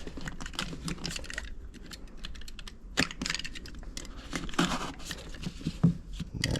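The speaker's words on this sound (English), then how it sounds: "I'm gonna cut it with a utility knife." A utility knife cutting a foam strip during a U-shaped window air conditioner installation: close, scratchy slicing and crackling scrapes in quick irregular strokes, with a few sharper snaps.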